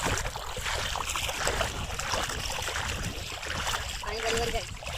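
Sea waves rolling in and washing back at Chandipur beach, a continuous rushing surge of water that swells and eases, close by, with a voice talking over it.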